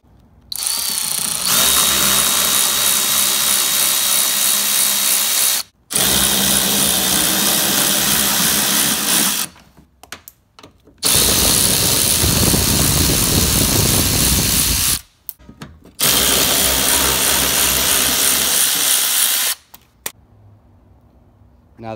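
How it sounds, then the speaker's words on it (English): A power drill with a 7mm socket spins out the headlight mounting bolts on a 2014-2015 Chevrolet Silverado, running in four long loud bursts separated by short pauses and brief clicks, with no talking. "Using a 7mm socket, we're gonna go ahead and remove these bolts"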